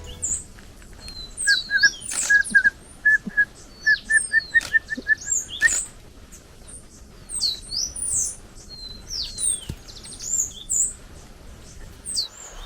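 Repeated high chirps, whistled calls and short trilled notes at a forest feeding spot where a chestnut-naped antpitta is being called out to breakfast, with irregular bursts over quiet background.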